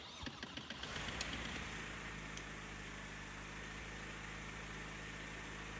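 A Robin DR400 light aircraft engine in X-Plane 11 cranks with a few sputtering clicks, then catches and settles into a steady, loud, droning idle that holds to the end.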